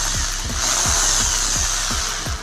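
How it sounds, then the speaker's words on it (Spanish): An electric drill whines steadily up close while marking a metal can for a homemade lamp, its high motor tone carrying a regular pulsing knock as the bit bites the surface. "Vamos a marcar con el taladro donde tenemos que perforar."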